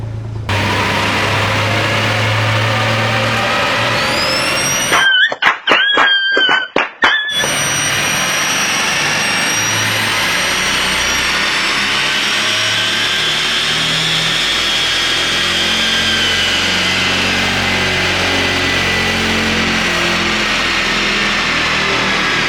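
A Mazda Eunos Cosmo with a 20B three-rotor rotary engine runs a dyno pull, revving loud and rising in pitch with a brief choppy burst, then holding a high droning whine before easing down.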